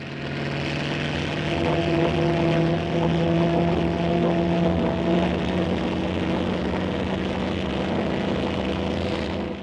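Vertical takeoff direct-lift aircraft lifting off, a steady loud engine roar with strong droning tones held throughout, no voices.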